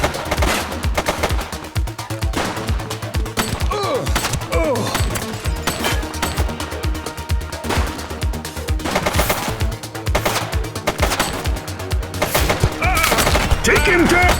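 Rapid gunfire bursts crackle through a tense police shootout in the video game The Precinct, dense continuous shots layered over a steady low game soundtrack with no pauses.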